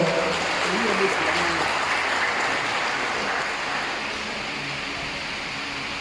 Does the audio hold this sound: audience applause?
yes